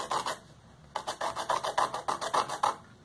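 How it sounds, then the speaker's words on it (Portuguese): A paper blending stump rubbed at an angle across sandpaper to sharpen its tip, giving about a dozen quick, close rasping strokes in an even rhythm with a brief pause near the start. "Você passa ele na lixa, certo? Inclinado, de preferência, para continuar fazendo a ponta."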